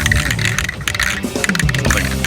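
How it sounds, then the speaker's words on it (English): A spray paint can being shaken hard, its mixing ball rattling in a fast, steady rhythm of sharp clacks, close and loud throughout. "you should keep shaking this until you can't hear the ball in there anymore"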